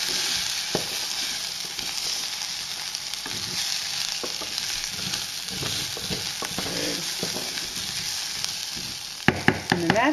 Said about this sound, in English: I'm just going to mix that around to get the rice and dal nicely mixed and combined with the spices